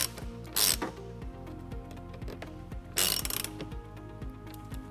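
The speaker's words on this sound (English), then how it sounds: "Then we'll tighten it up using a 10mm socket." Ratchet wrench with a 10mm socket tightening a bolt while a trailer wiring harness is fitted to a 2008 Dodge Nitro, giving rapid close clicking strokes with two louder bursts of ratcheting, no talk.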